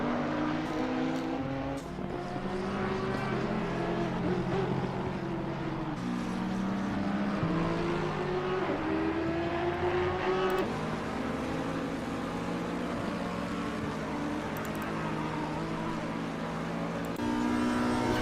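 Several race cars roar past at Spa-Francorchamps in a PC racing game, engines droning loud and continuous with rising and falling pitch as gears shift, one car's note sweeping upward, steady throughout with no talk.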